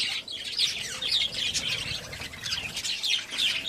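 Budgerigars, white and silver, chatter in clay breeding pots with a constant close flurry of high chirps and twitters, overlapping without pause.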